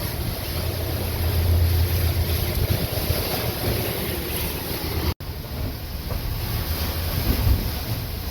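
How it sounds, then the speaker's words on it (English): Strong wind above 20 knots and waves hitting a sailing boat head-on at sea, heard as a steady loud rush of wind noise with churning water from start to end, and no talking. "it's putting the waves right on the nose and the wind right on the nose."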